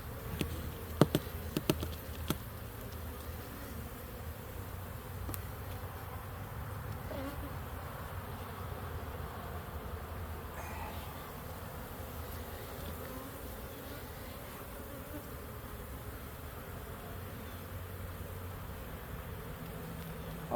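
Honey bees buzz around an opened beehive brood box, a faint, steady, continuous drone with a few light taps near the start.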